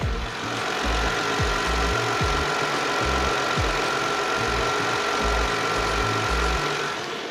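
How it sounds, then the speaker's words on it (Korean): A Kia Opirus sedan's engine idles steadily with a low, rhythmic chugging pulse and a faint constant hum on top, running on its own without any talk. "자 마지막으로 엔진 소리 한번 들려드릴게요"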